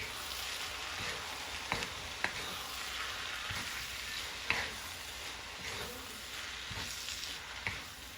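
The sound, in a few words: vegetables sizzling while frying in a wok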